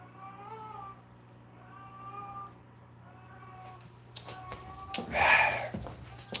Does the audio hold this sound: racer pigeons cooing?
no